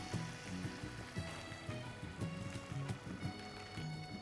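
Vegetable stock simmers into tomato basil risotto rice in a pan over low heat, giving a faint, patter-like bubbling and soft sizzle with quiet tonal hum in the background and no speech.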